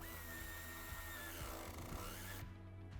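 A power tool whirs steadily while tightening a nut on a towbar mount for an Audi Q5 (8R) S-Line, up close and fairly quiet, then cuts off near the end.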